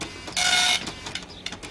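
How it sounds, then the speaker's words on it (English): A computer printer in a cartoon scene runs through pages, with one loud burst of printing noise followed by fainter mechanical clicks and ticks, no talk. "I think the printer doesn't know how to use your new paper, Ted."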